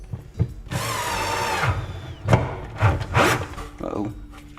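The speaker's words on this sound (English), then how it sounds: "Turn your torque down on your drill so you don't strip out stuff" A power drill drives a screw into a kitchen cabinet with too much torque, whirring in a few short bursts, revving and stopping, close by, with brief mechanical clunks between runs.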